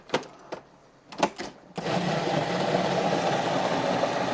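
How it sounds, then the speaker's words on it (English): A blender whirs steadily at high speed through mac and cheese sauce, starting abruptly after a few soft knocks and handling sounds and running continuously to the end. "Jane, do you want to blend it?"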